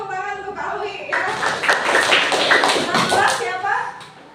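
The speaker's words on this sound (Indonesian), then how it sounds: "tepuk tangan untuk Alwi ya" A classroom of pupils claps for a classmate, a dense burst of hand claps that swells and fades over a few seconds, with voices mixed in.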